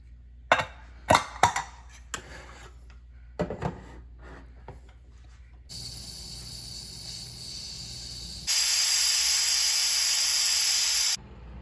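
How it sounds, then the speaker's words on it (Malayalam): Pressure cooker with lentils and vegetables for sambar, scattered clinks first, then a steady hiss of escaping steam that jumps to a louder, harsher rush before cutting off. "ഒരു 3 വിസിൽ വരുന്ന വരെ ഒന്ന് വേവിച്ചെടുക്കാം."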